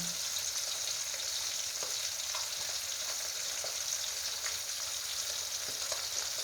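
Small fish frying in hot oil over a medium flame, giving a steady, dense sizzle with faint pops and crackles throughout, close and even, with no voices.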